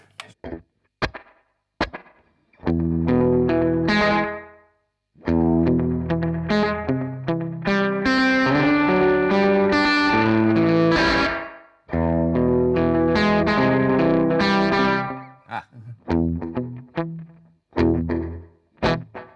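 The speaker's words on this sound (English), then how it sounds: "if you add a lot of pre-delay, it turns into this kind of really weird slapback kind of thing" A heavily effected instrument plays choppy phrases, each note smeared with a doubled, slapback-style echo from reverb with heavy pre-delay and a washy tail, with short gaps between bursts.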